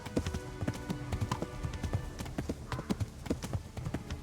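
A galloping horse in Kingdom Come: Deliverance, close and loud, its hooves beating a quick, steady rhythm with no pause for the whole stretch.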